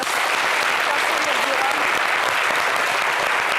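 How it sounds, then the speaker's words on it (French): An audience applauds Sonia on a French television talk show: dense, steady clapping from a full crowd, loud and continuous from start to finish. "Merci d'applaudir Sonia."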